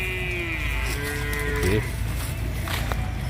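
Native Indian cattle, cows and bulls, with one thought to be an HF crossbreed, moo in a long, clear call that rises and bends, followed by a shorter lowing sound, close and loud over steady outdoor background noise.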